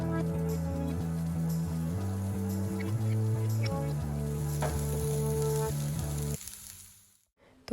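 Vegetables for poha sizzle in a pan while being stirred, a steady frying hiss with occasional scraping stirs over a constant low hum, cutting off abruptly near the end.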